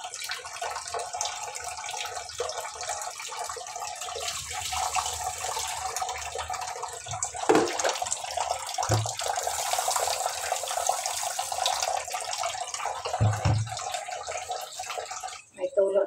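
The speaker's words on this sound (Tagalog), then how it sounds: "May tulo na dito guys sa loob." Tap water runs steadily while dishes are washed at home, a continuous hiss of flowing water with occasional clinks and splashes, and a person talks over it.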